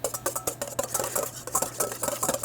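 A utensil stirs vinegar and mustard for a dressing in a bowl, making quick repeated clinks and scrapes at a fast, steady rhythm, close and fairly loud.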